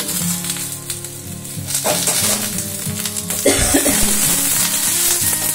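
A tilapia curry with salt and turmeric stirred over low gas in a pan, giving a dense sizzle with scraping and rattling spoon strokes, loud and close, over a steady tonal background.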